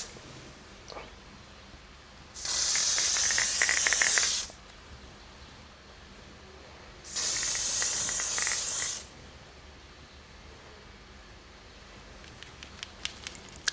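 An SPF 50 sunscreen spray hisses in two steady bursts of about two seconds each, close and loud, separated by quiet, with a few small clicks afterward.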